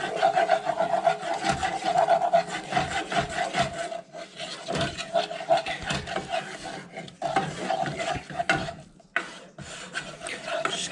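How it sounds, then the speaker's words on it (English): Soup is stirred in a pot on a stovetop burner turned down to low, giving a steady rhythmic scraping and rubbing of the spoon against the pot, close and continuous with brief pauses. "Keep stirring."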